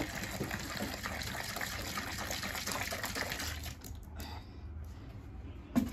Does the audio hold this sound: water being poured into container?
yes